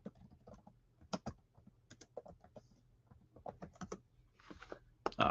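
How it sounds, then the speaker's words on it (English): Someone types on a computer keyboard, producing irregular bursts of close, crisp key clicks with short pauses, then a louder clack at the very end. "Let me type that in."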